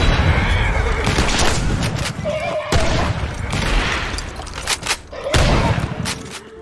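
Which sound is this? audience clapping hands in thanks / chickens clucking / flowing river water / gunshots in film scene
gunshots in film scene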